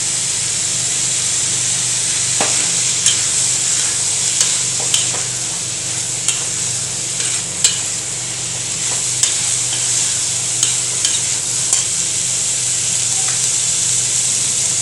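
Beans, carrot and other vegetables fry in a pan for a side dish, a steady sizzling hiss with repeated light clicks and scrapes of stirring, close and continuous.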